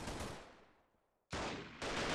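Bursts of gunfire in the video game Freeman: Guerrilla Warfare during a siege battle: a loud volley fades out, then after a short silence two more heavy rounds of shooting break in close and sustained.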